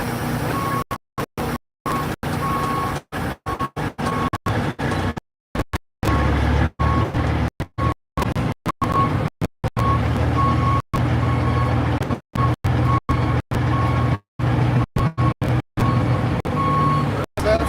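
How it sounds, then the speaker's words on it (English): Freightliner truck backing up, its reversing alarm sounding a steady, evenly spaced series of beeps over engine rumble, cut by frequent brief gaps. "Beep, beep, beep, beep. I'm backing up."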